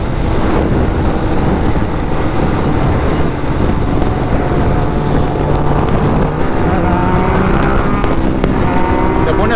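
A Kawasaki ZX10R sport motorcycle accelerates while being ridden, its engine a loud, rising whine buried in heavy wind buffeting on the microphone, with rising tones near the end.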